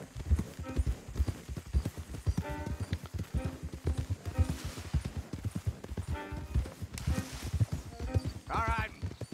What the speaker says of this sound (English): Don't want the horses clopping around outside the window